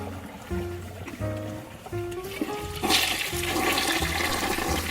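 A toilet flushes nearby, a rising gush and swirl of water that swells loudly midway and keeps rushing to the end, with a few faint tonal gurgles early on.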